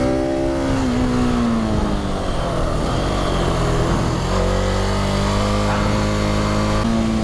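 A 2019 KTM 690 SMC R supermoto's single-cylinder engine revs and pulls steadily while riding, its pitch sliding up and down between gears, loud and close with constant wind rush.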